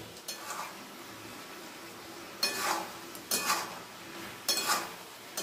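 A spoon stirs spiced pumpkin curry with Kashmiri chili powder in a pan, giving three sharp scraping clinks against the metal over a low, steady kitchen background.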